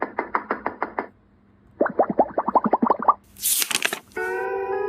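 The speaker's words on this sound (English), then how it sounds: "Just then, there's a knock at the door." Door knocking sound effect in a SpongeBob SquarePants story: a quick run of seven sharp knocks, then a second faster burst of knocks, followed by a rising whoosh and a sustained tonal chime.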